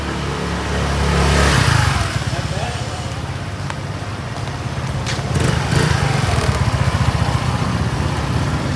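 A RUSI motorcycle engine revs and pulls during a test ride downhill, its steady drone rising and falling close by, with someone speaking over it.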